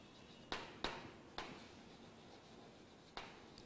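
Marker or chalk strokes on a classroom board, four sharp separate taps and scratches against quiet room tone.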